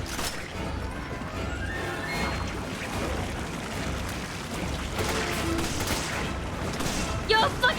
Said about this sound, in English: You're fucking shooting me!